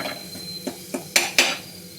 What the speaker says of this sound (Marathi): आता मी परतून घेते